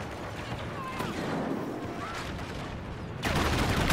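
Dense rapid gunfire from a strafing run in a Star Wars video game, a continuous crackling barrage that swells louder near the end, heard with a busy battle din.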